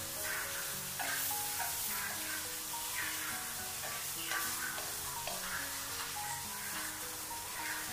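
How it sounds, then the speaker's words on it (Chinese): Eggplant pan-frying without oil first, turned repeatedly with chopsticks: a soft steady sizzle with light rhythmic clicks and taps of the chopsticks, close and fairly quiet, with background music and no talking. "一定要把茄子里面的水分给它煎出来。"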